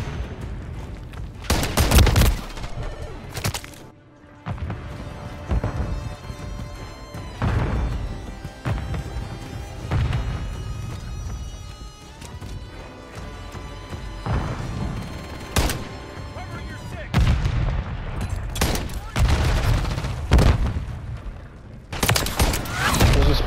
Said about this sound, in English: Grenade, get back! Stun grenade!